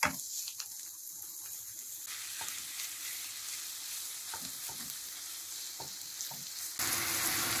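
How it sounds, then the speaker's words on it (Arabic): Minced meat sizzles in a pan of butter, oil and onions that were fried until they changed colour. A steady, soft frying hiss carries a few faint stirring clicks, and there is no speech. "أضيف بقى دلوقتي اللحمة المفرومة"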